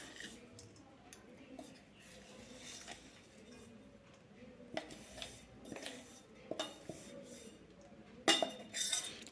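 Crushed black sesame being moved into a bowl for kachariya laddoos, with scattered light clinks and taps of utensils against dishes, faint and intermittent, a few sharper knocks near the end.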